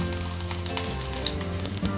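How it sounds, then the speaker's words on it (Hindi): Finely chopped garlic cloves sizzling in hot oil in a pan with roasted cumin seeds, a steady close crackle and hiss with small pops throughout, no voice present. "अब इसमें हम 3 बारीक कटी हुई लहसुन की कलियां डालेंगे।"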